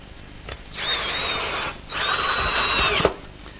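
A power drill drives a screw into a wooden flagpole in a woodworking shop, with two close, steady whirring bursts separated by a short pause, the second ending in a sharp click.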